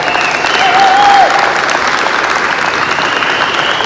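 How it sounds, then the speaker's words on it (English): Audience at a 2021 topping-out ceremony claps and applauds, a steady dense patter of many hands that swells slightly, then holds for several seconds with no voices over it. "if you guys keep clapping"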